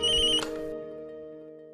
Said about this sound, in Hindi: आंचल प्लीज प्लीज फोन तुम उठाना